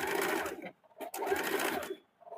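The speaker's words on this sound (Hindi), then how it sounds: "सामने वाले पल्ले में नीचे का पट्टी जोड़ने के बाद इसमें 2 चाप सिलाई चला देंगे" Sewing machine stitching a double line along the bottom band of a blouse's front panel, two loud bursts of steady rapid whirring separated by a short pause, close by.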